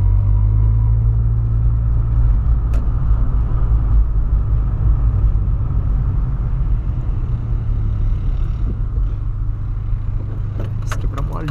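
A 2008 VW Polo sedan rolls over a speed bump. A loud, constant engine and road rumble runs throughout, with faint rattling and jangling inside the cabin.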